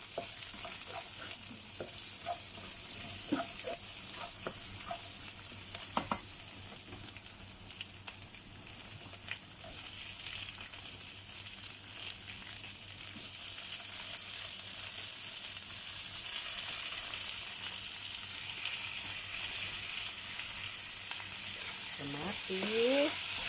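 Ginger and onion fry in a pan for bangus, giving a steady, soft sizzle with occasional stirring clicks and scrapes throughout.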